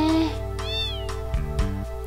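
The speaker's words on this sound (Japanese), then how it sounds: "返事した猫が。" A single cat meow in Final Fantasy VIII, a short, clear mew that rises and falls, set over steady in-game music.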